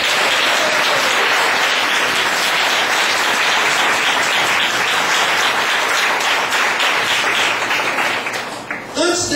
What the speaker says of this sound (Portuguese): aplaudir o Senhor Jesus por tudo que faz